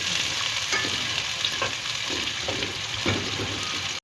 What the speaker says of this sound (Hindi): इसके बाद प्याज को हम अच्छे से गोल्डन कर लेंगे